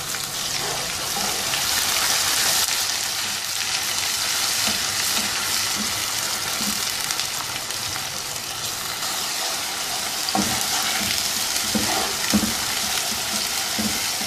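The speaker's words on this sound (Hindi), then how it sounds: "अनियन अच्छी से फ्राई हो गया।" Onion paste frying in a pot for achar gosht, a dense continuous hiss and sizzle with occasional stirring knocks, close and loud throughout.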